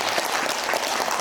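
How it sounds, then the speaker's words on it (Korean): An audience at a corporate training presentation gives a short, dense round of applause, many hands clapping together at a steady level. "박수 한번 주세요."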